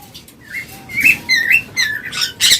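Caged pet birds, including pineapple conures, at a bird sale give a quick series of shrill, whistling chirps and squawks, close and loud, with no talking.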